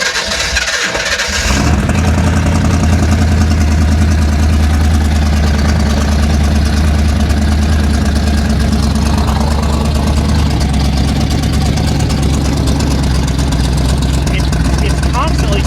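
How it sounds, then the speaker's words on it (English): A 1966 Chevrolet Impala SS, parked for over ten years and stuck in gear, starts up and idles in a loud, steady, low rumble close by, with a voice talking over it. "I want to hear it just sit here and run before I go through and spend any money on this car"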